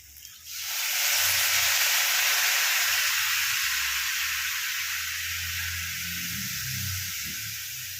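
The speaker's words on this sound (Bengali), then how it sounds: "এর মধ্যে আমি একটু এক দু আঁচলা জলের ছিটে দিয়ে দেবো।" Water splashed into a hot pan of cooking potatoes and capsicum sets off a sudden loud steam hiss that swells within a second and holds steady, easing slightly toward the end, with faint low kitchen rumbles beneath.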